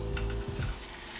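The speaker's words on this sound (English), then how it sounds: "Once your pan's hot enough, I reckon it's time to pop it on so that you get that sizzle." Brief crackling sizzle of taco beef frying in a hot pan, with a short scrape of stirring, close by.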